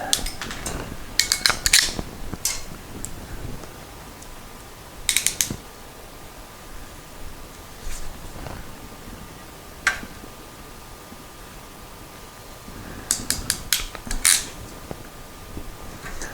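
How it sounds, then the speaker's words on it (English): A hand crimper presses a connector onto solid wire. It gives clusters of sharp mechanical clicks and ratcheting snaps in three or four bursts, separated by quiet pauses. "Just going to crimp this solid wire on first."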